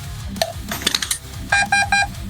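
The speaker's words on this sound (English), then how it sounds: "Beep, beep, beep. 3 beeps" An LDX Advance 3.0 gearbox in an LDT MP5-SD6 airsoft gun gives a quick run of short electronic beeps near the end, preceded by a single beep and a few scattered mechanical clicks.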